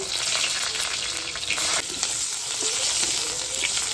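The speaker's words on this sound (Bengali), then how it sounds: "এবার বেগুনটা ভেজে নিচ্ছি" Eggplant pieces frying in hot oil while a Bengali shukto is being cooked, giving a steady, close, dense sizzle and crackle that holds for the whole stretch with a few stirring scrapes and no talking.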